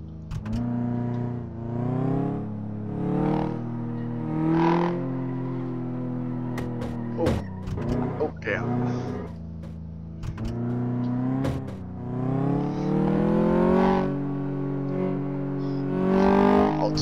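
A car in the Car Mechanic Simulator 2014 video game accelerates again and again, its engine tone climbing in a series of rising revs, briefly cut by clicks and thumps, with no voice over it.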